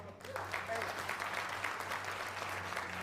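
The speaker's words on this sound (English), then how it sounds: "Applaud yourselves." A crowd at a community fundraising campaign launch applauds, a dense, even wash of clapping that holds steady for a few seconds, heard from a distance in a large room.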